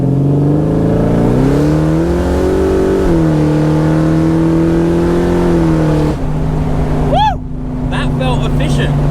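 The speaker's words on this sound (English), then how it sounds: "Heaps of wheel spin and a really gentle launch." A car launches hard from a standstill in a 100 zone, its engine droning and climbing steadily in pitch through several gear changes with wheels spinning and breaking loose, loud and close with cabin chatter and a voice over it.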